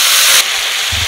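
Water splashed into a hot pan of cardamom, cloves, cinnamon, black pepper, dried chili paste and cumin paste gives a loud, harsh hiss that drops to a softer steady sizzle midway, with a dull low thud at the end.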